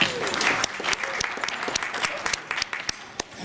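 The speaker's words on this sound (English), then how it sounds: "Thank you for the warm applause." Warm audience applause welcoming the chair of the Academy Awards Governors Ball at a press preview, with a dense clatter of claps and sharp individual hand claps standing out near the end.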